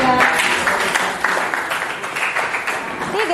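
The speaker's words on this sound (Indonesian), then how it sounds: "Oke, tepuk tangan untuk kelompok 3." Students in a classroom applaud a presenting group with a loud, uneven round of clapping, mixed with a few voices and a short vocal sound near the end.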